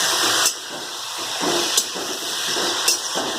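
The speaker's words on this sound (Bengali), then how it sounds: "এবার আমি এর মধ্যে সিদ্ধ করে রাখা কচু দিয়ে দেব।" Boiled taro greens (kochu shak) dropped into a hot frying pan with fried chillies, giving a steady steam-like hiss with a few sharp clatters, close and alone with no talk.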